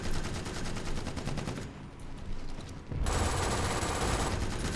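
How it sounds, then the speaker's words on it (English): Heavy machine gun fire in the shooter video game BRINK, sustained rapid bursts that are loud and close throughout, briefly easing in the middle before resuming at full intensity. "I don't really think this heavy machine gun's very good."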